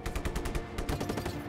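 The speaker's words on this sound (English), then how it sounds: "Stop shooting me!" Rapid gunfire in the open-world video game Just Cause 3, a dense burst of automatic shots rattling continuously for a second and a half at moderate level, with no talking.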